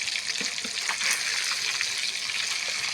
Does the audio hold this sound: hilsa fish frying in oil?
yes